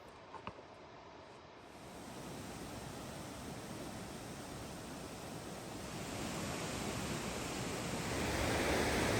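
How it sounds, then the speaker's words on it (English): Kennedy Creek along the Pacific Crest Trail rushes steadily in the woods, a broad, continuous roar of flowing water that grows slightly louder near the end, with no voices over it. "Here's Kennedy Creek."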